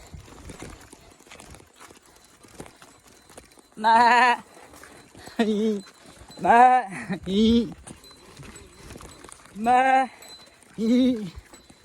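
Goats bleat repeatedly as they are herded back from grazing, several loud wavering calls close by, with hoof clatter and rustling between them.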